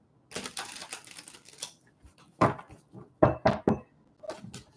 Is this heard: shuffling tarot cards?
yes